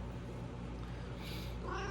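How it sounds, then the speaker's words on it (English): A pet cat named Sophia meows softly indoors, a short faint meow near the end over low room noise. "now I have a cat"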